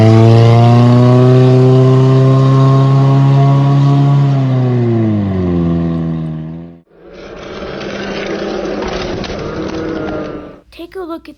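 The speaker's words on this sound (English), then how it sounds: "This is a straight piped Prius." Straight-piped Toyota Prius exhaust revving loudly and close up, a steady drone whose pitch sags over several seconds before cutting off, followed by a rougher burst of rasping engine noise and a brief final blip.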